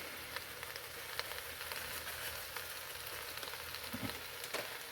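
Onions frying in a pan for a soul-food cabbage dish give off a steady, close crackling sizzle with small pops throughout, and no talking.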